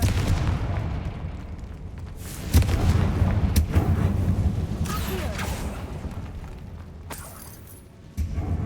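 Confringo fire spell in the video game Hogwarts Legacy, a booming blast with crackling impact and debris rumble around the midpoint over continuous game ambience.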